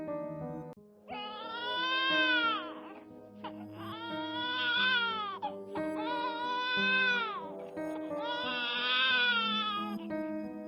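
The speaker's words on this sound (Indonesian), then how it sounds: "tiba-tiba terdengar suara seperti tangisan bayi." A baby's crying sound effect: four long, loud wailing cries, each rising and falling in pitch, come one after another with short breaths between them, over a low background hum.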